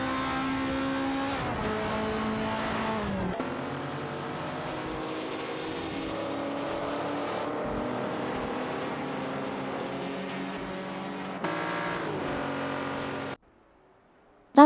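Race cars, a Ford Mustang Boss 429 and a Chevrolet Impala, drone through a racing video game with steady, sustained engine tones that shift in pitch as the cars change gear. The sound drops out abruptly near the end.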